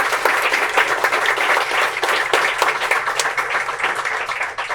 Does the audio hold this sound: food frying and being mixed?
no